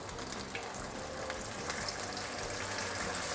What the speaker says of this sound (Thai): อันอื่นลงไปทอดต่อนะครับ